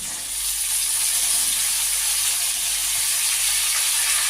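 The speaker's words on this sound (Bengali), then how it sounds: "অন্য সবজিগুলো সব একসাথে দিয়ে দেবো আলু কুমড়ো একটু লালচে লালচে ভাত চলে আসছে" Potato, pumpkin and other vegetables fry in a pan with a loud, continuous sizzling hiss that holds steady from start to finish.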